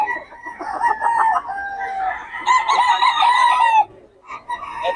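Roosters crowing loudly and close at a chicken market, with overlapping crows and clucks from several birds, one long crow breaking off near the end before more calls start.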